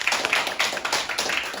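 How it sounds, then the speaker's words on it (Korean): A classroom of students clapping together for a classmate, a brief burst of quick, overlapping hand claps close by, with no voices over it. "여러분 박수 한번 쳐줘요"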